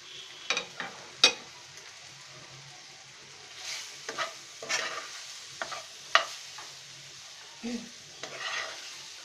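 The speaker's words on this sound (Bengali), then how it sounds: "পটল ভাজাতে দিয়ে আমরা একটু নেড়ে নিচ্ছি। আমরা একটু কষিয়ে নেব।" Pointed gourd (potol) slices are being stirred in a pan with a spatula, giving several sharp scraping clacks at irregular intervals over a soft, steady sizzle, close and moderately loud with no talking.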